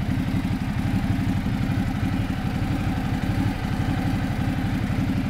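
A 2013 Ducati Multistrada 1200S twin-cylinder engine runs steadily nearby with a deep, rhythmic throb, heard alone with no talking.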